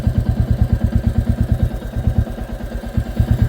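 A motorcycle engine idles with a steady, rapid low thumping pulse while it is backed up on a blocked road near an expressway construction site. It runs close and continuous for the whole stretch, and no one speaks over it.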